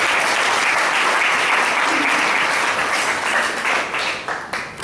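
Steady, dense applause from the audience at a Bangalore Toastmasters Club meeting, holding strong for several seconds and thinning slightly toward the end.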